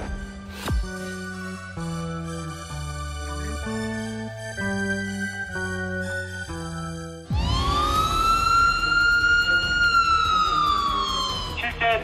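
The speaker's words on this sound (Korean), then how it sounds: "현재 시각 우리나라 전역에 실제 공습 경보를 발령합니다" A nationwide real air raid warning siren in South Korea: a sequence of stepped chime tones gives way to a loud, rising, sustained wail that holds steady to the end.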